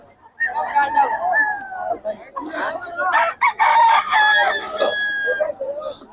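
A rooster crows loudly and close by, its long drawn-out call repeating, with people talking over it throughout.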